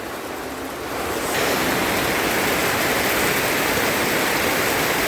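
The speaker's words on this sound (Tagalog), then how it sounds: "lumakas na naman yung ulan mga kaboks" Heavy typhoon rain pours down steadily over rushing floodwater as a dense, continuous roar of water that swells louder after the first second, with no talking.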